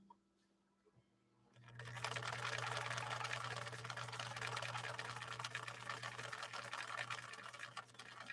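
A 1961 Viking sewing machine stitching with Sulky 40 weight embroidery thread, starting up after a quiet moment into a steady, fast mechanical whir and rapid clatter that runs close and unbroken to the end.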